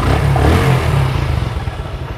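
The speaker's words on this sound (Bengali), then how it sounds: "বাইক কিন্তু স্টার্ট আছে, স্টার্ট অবস্থায়" A Yamaha FZS motorcycle engine runs at a steady idle, close and loud, with an even low throbbing rumble and light mechanical clatter throughout.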